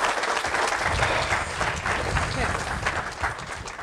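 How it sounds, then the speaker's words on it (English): Wedding guests at a ceremony clapping steadily for the groom, a close, dense round of applause mixed with crowd murmur and voices. "Round of applause for Matthew, everyone."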